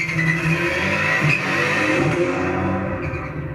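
A Citroen DS3 rallycross car, an X Games winner, revs its engine hard and loud and close, a snarling rise and fall of engine note that runs the whole time.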